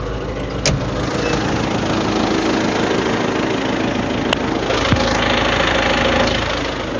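A tractor engine idles loudly and steadily nearby, a continuous low rumbling drone with a few faint clicks over it.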